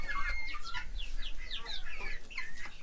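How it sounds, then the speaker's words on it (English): A silky rooster clucks in a quick series of short, chirpy calls, fairly close and otherwise quiet. "Look at this silky rooster right here."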